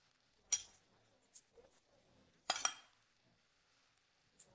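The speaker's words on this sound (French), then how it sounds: "On étale bien la sauce comme il faut sur la pâte." A spoon scrapes and clinks against a baking dish while tomato sauce is spread over baked tart dough, with a few sharp metallic taps separated by short quiet gaps, close and fairly soft.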